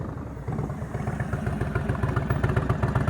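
A motorcycle engine at a slow-speed riding skills practice session in California, shifting down with a steady, throbbing exhaust pulse that grows slightly louder and rougher after the first half-second, close by and with no talk over it.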